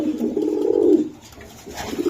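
Grizzle racing pigeons cooing close by, one long throaty coo followed by a brief pause and the start of another, with no talk over it.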